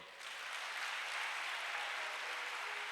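A church congregation at a French-language praise and worship service applauds, a steady dense wash of clapping that holds for a few seconds.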